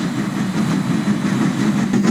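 A train engine idles at South Plainsville Station, giving a steady low rumble with a faint periodic chuff. The sound holds even and moderately loud throughout, with no voices.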